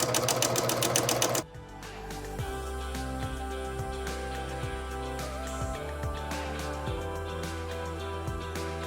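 A sewing machine stitching a thick shirt collar runs in a fast, even mechanical whir with regular clicks, preceded by a brief rapid burst of stitching at the start.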